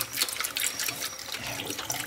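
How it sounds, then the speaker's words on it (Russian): Cold tap water pours steadily over eggs in a pot, a continuous splashing hiss with no voices. "И заливаем наши яйца холодной водой."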